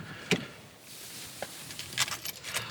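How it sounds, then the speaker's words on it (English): Car keys jangle close by in a few brief metallic bursts, fairly quiet, with no talking, during an off-season drive on the NC500 route. "Let's get the keys out."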